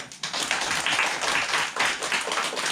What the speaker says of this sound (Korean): 박수 한번 칩시다